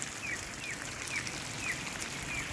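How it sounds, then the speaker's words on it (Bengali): Steady hiss of water spray making artificial rain to cool broiler chickens in intense heat, with a few faint bird chirps repeating in the background. "হ্যাঁ কৃত্রিম উপায়ে বৃষ্টি।"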